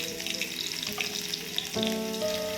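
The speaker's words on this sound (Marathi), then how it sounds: "तेल तापलेलं आहे त्यामध्ये मी आता थोडी मोहरी टाकते" Mustard seeds and garlic hit hot oil in a pan, giving a steady crackling sizzle that swells suddenly louder and fuller partway through as more goes in, close up with no voices.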